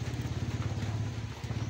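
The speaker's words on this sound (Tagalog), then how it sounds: "May dumaan bago yung motor." A new motorcycle putters past close by, a low, rapid, pulsing engine thrum that stays steady through the short moment with no speech.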